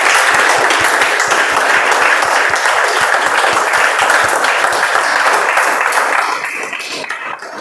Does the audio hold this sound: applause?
yes